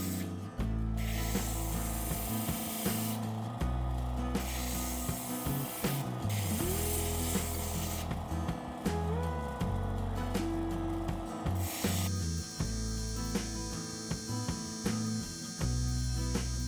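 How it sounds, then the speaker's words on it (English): A rough gemstone of just over 24 carats is trimmed into a cabochon preform, giving a steady whirring grind with repeated tonal shifts as the stone is pressed and lifted against the wheel, loud and continuous with no talk. "I'm starting to preform the stone and trim away the excess material."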